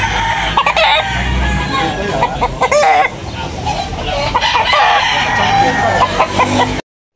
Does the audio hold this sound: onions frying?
no